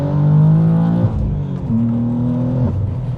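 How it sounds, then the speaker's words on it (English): A manual BMW M2 pulls hard in first gear, engine note rising loud and close, then drops as it shifts into second and climbs again, with a second shift dip near the end. "Here's a first gear pull to second."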